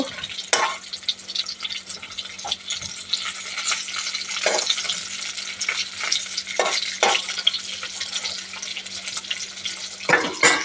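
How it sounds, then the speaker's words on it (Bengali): Fish fries in a pan in a home kitchen with a continuous crackling sizzle, broken by intermittent sharper pops and the clatter of utensils, close and fairly loud with no voices. "মাছ ভাজি করতেছি"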